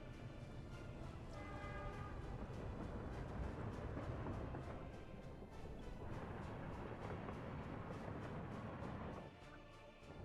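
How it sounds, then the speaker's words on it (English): A freight train departs in the Workers and Resources simulation game, a steady dense rumble of rolling wagons at moderate distance, continuous for several seconds, with a faint horn-like tonal layer and no voices. "if I lower that to 2, then the train will leave."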